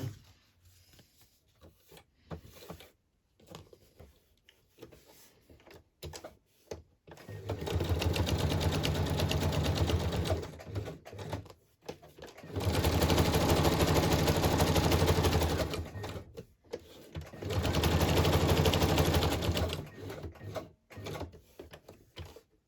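A sewing machine zigzag-stitches around beige journal cards in three sustained bursts of several seconds each, a loud, steady mechanical whir with quiet handling noises and pauses between runs.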